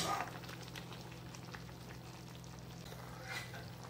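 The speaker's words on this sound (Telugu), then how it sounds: "అన్నీ కలిపి ఉడుకుతున్నాయి." Cauliflower curry bubbling and simmering under a lid in a pot, a steady low, close bubbling hiss that runs unbroken with no talk.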